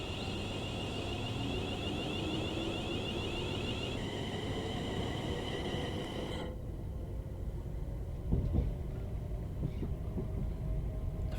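A Class 380 electric train on the Glasgow Cathcart Circle in Train Sim World 5 runs with a steady broadband rumble and a high whining motor tone that drops partway, then settles into a quieter rolling hum with a brief clunk near the end.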